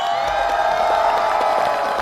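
A studio audience at a Chinese variety show claps and cheers in a dense, loud wave of applause that holds steady for about two seconds, with no one speaking over it.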